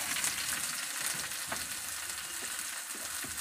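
Onion frying in plenty of hot oil for a Bengali-style chicken curry, giving a dense, even sizzle with a few sharp crackles and stirring sounds, close up and uninterrupted by speech.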